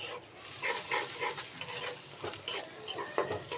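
Spice paste for a tengra fish bhuna fries in a pan with a close, crackling sizzle and rhythmic scraping as it is stirred. The sound is fairly quiet and has no speech.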